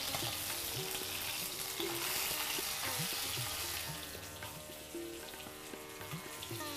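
Fish fries in a pan, a steady close sizzle with occasional stirring clinks, fading slightly toward the end.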